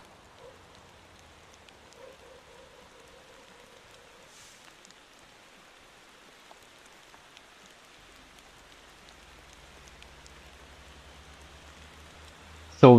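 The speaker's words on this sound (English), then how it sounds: "Oh, of course it starts raining." Rain in the Motor Town: Behind the Wheel driving game, a soft, steady patter of falling rain with faint engine hum underneath, quiet throughout until a sharp noise at the very end.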